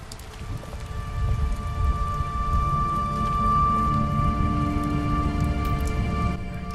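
Steady rain falls in The Wolf Among Us, a dense broadband hiss with patter that holds evenly, alongside a low ambient hum and faint musical tones. No one speaks.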